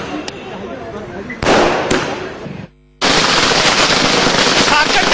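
Firecrackers going off outside Congress headquarters at an election victory celebration in Jharkhand, loud rapid crackling bursts in dense strings, with a brief pause before a sustained barrage.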